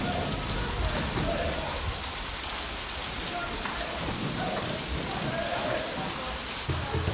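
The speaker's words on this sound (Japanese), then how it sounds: "台風10号の影響で三峰は凄まじい豪雨となった。" Heavy torrential rain from Typhoon No. 10 pours steadily in Mitsumine, a dense constant roar of downpour on surfaces with no break across the whole stretch.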